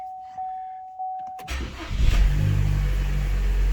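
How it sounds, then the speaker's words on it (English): After a few electronic chimes, the 1.4 turbo engine of a 2013 Opel Astra J with an oil leak cranks over, fires up, briefly revs and then keeps running at a steady low rumble. "Yep, now runs."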